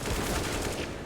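Dense, continuous gunfire from a CS:GO match between BIG and FunPlus Phoenix on Nuke in the ESL Pro League: a loud, sustained spray of overlapping shots for about a second, with no pause.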